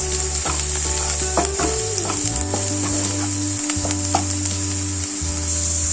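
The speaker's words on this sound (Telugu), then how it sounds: "వీటిని కాసేపు ఆయిల్లో మగ్గనియాలండి" Onions frying in oil in a pan, a steady close crackling sizzle running throughout with occasional stirring scrapes and a low background hum.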